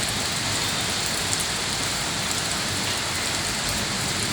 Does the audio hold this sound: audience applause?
no